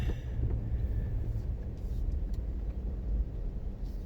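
A truck drives along with its engine running steadily, giving a continuous low rumble and road noise from inside the cab, with no pauses.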